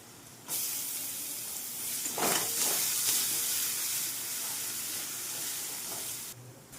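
Steady crackling sizzle of onion, garlic, masala and red chili frying in hot oil for a dal tempering, broadband and continuous, with a brief stirring scrape partway through and no talking.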